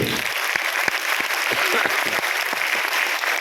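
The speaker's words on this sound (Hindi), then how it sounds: "जोरदार तालियां निखिल सर के लिए" Crowd at a business meeting giving hearty applause, thick continuous clapping from many hands at close range.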